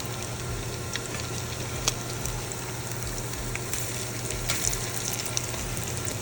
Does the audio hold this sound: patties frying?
yes